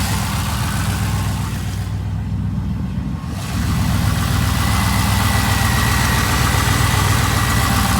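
A 2001 TVR Tuscan's 5.7 Chevy LS V8 race engine idles steadily up close, dips briefly, then settles into a fuller, rumbling run with a constant low vibration and a slightly noisy fuel pump.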